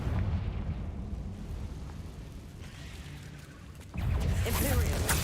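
Fiery Confringo spell blasts from Hogwarts Legacy on hard mode, a sustained rumbling roar of explosive bursts that swells louder and brighter near the end, with crackling fire and a voice faintly present underneath.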